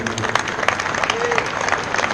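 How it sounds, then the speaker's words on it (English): An audience gives a round of applause for a guest at a community talk, a steady wash of clapping under a voice speaking throughout the short stretch. "I think we can all give him a nice round of applause, Walter."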